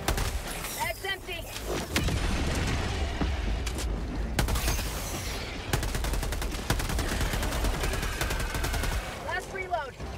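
A deployed turret in Helldivers 2 fires long, rapid automatic bursts, loud and close, with brief pauses and mechanical clatter amid battle noise, while a player's voice is heard briefly near the start and end.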